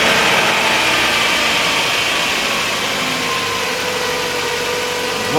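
A Toyota Starlet EP91 engine runs steadily after starting, a loud, close, even idle with constant mechanical hum and no voices.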